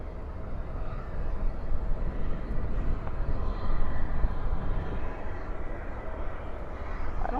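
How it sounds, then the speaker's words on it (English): An Envoy Embraer E175 jet arriving from Oklahoma City at DFW airport at night gives a steady low rumbling roar at a distance, holding even throughout. "behind that is an E175 coming in from Oklahoma City, Envoy"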